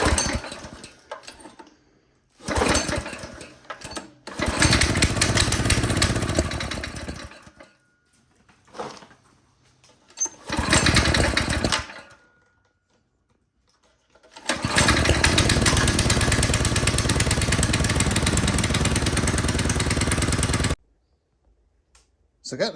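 Small go-kart engine on a TrailMaster Mid XRS running in loud bursts as the carburetor is adjusted, revving up and dropping away between pauses, with a long sustained run near the end.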